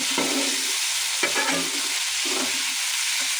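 Vegetable bhaji of Malabar spinach fruit and onion greens sizzles steadily in a pan, with a few soft stirring scrapes breaking through the constant frying hiss.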